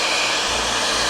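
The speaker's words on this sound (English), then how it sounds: "work slowly with the hairdryer and heat up the adhesive on the side" A hair dryer heating the adhesive around a Jeep WJ headlight cover blows with a steady, loud, close whirring hiss, unbroken throughout with no talk over it.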